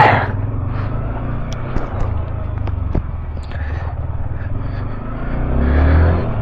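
Motorcycle engine idling while it warms up, a low steady putter under faint background street noise, with a brief swell of revving near the end.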